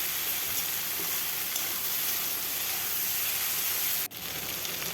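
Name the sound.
stirring potato and eggplant cooking in a pan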